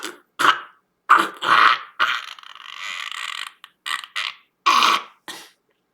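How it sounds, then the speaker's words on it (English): An exaggerated hairball coughing effect: a run of rough, throaty hacks and retches in uneven bursts, one drawn-out gagging stretch in the middle, close and fairly loud with no speech. "It sounds like you're coming / coughing up a hairball."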